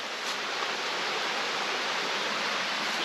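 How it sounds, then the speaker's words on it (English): A mountain creek on a hiking trail flowing steadily nearby, a continuous broad rushing wash of water with no pauses. "Got the creek running right there."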